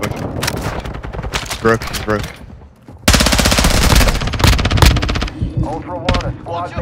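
Rapid bursts of automatic gunfire from a shooter video game crackle loudly in clusters, with a dense sustained volley in the second half, while players talk over the shots.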